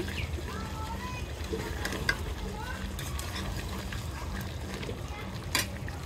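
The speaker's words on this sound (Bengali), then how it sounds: "মাংসটা আমি কষাচ্ছি" Duck meat with potatoes sautéing slowly in a pan, a low continuous sizzle with occasional clinks and scrapes of stirring, while a voice talks quietly over it.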